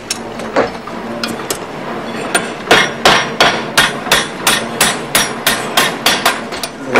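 Metal is struck with a hammer to form a hinge in a workshop, a steady rhythmic series of ringing blows gathering pace, about fourteen close, clear strikes over a low background hum.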